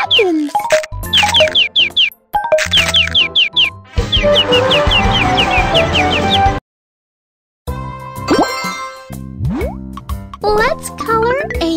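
Cartoon bird chirps in a children's coloring video game, bright repeated tweets over bouncy game music and a cheerful narrating voice, with a short silent gap partway through.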